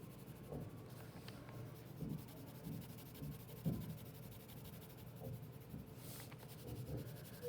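Pencil or marker scratching steadily across paper while coloring in a drawn piece of furniture, a soft continuous rubbing with short strokes close up, no voices.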